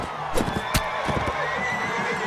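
A horse in the Mount & Blade video game whinnies in short bursts, and a few hoof clops sound among them. The sound is moderately close, with no talk.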